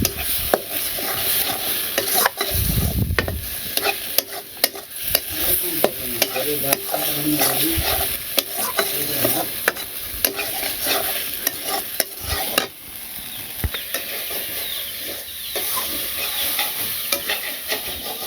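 Potatoes sizzle and fry in a pan with cumin seeds and garam masala paste while a utensil repeatedly scrapes and stirs them, close and steady with intermittent clinks against the pan.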